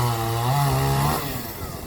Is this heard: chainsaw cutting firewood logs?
yes